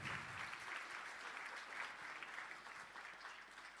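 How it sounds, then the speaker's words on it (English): Audience applause for netball players and staff at the Sharelle McMahon Medal awards night, a steady dense roar of clapping that holds evenly throughout, fairly distant and soft. "Please give all of the players and staff a huge round of applause for such a tremendous effort."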